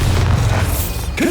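Bombarda spell explosion in Hogwarts Legacy, a loud, dense, sustained booming roar with heavy low rumble filling the whole moment, ending with a rising tonal swell.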